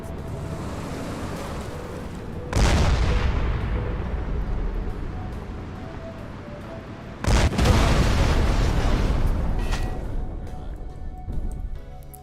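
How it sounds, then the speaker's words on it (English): A modded tank cannon firing in a Cryengine 2 game, two heavy booming blasts several seconds apart, each followed by a long rumbling roar that slowly fades. "So now we've added a modded tank cannon to that."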